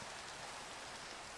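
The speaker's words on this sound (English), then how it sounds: "It is raining." Rain falls steadily in a Minecraft-style game world, a soft, even hiss of pattering drops with no breaks, faint and uniform throughout.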